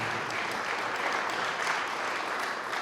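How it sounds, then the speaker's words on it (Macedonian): An audience applauds together at a book promotion, a steady, dense wash of clapping that holds evenly at moderate loudness for the whole stretch with no voices over it. "Еден аплауз молам за херојот"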